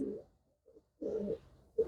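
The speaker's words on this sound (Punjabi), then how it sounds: "ਕਾਲਾ ਚੀਨਾ ਕਬੂਤਰ ਬੜਾ ਹੀ ਸ਼ਾਨਦਾਰ ਹੈ ਬਾਈ ਜੀ" A black Chinese pigeon gives a few soft, low coos in short bursts separated by brief pauses, close by and fairly quiet.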